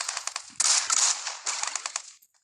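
Gunfire in PUBG Mobile, rapid bursts of close automatic shots in two main volleys with scattered single reports, loud and alone, ending in a short tail.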